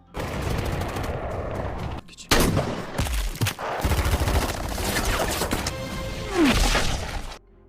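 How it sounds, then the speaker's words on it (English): Gunfire erupts in a film scene of a hostage rescue from an ISIS group: sharp, loud bursts and rapid volleys with crashing impacts, broken by brief gaps amid other busy action noise. "and gunfire ensued."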